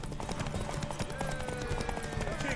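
Rapid clip-clop of horse hooves galloping in a horse race in The Witcher 3: Wild Hunt, under background game music and shouting voices, steady and close throughout.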